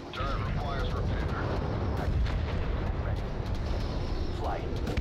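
Artillery barrage striking a turret in the strategy game Crossfire Legion, a steady dense rumble of distant blasts and gunfire running throughout under game voice announcements.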